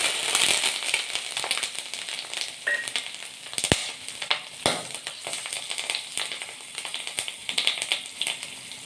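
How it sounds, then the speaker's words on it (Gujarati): Surti chillies, garlic, ginger, asafoetida and curry leaves crackle in hot oil for a Kathiawadi kadhi tempering, a close, lively sizzle with frequent sharp pops and spits throughout. "મરચાં અને વઘાર તતડે એટલે તરત જ એની અંદર આ છાશ નાખી દઈશું આપણે"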